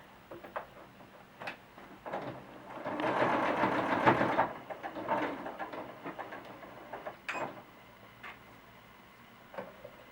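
A sewing machine bastes a cloth doll's leg to its body in short, soft bursts of stitching, the longest run in the middle, with faint ticks and pauses around it in a quiet room.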